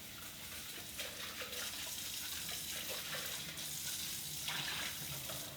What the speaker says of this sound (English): Now it's just a matter of a little scrub.